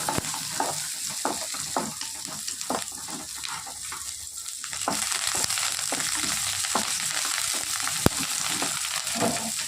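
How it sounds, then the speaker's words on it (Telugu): Lentils and spices frying in a pan as a tempering for an ivy gourd and coconut curry: steady crackling sizzle with repeated stirring scrapes, growing a little louder partway through. "చూడండి ఇలా పప్పు దినుసులు వేసుకుని వేపేసేసి"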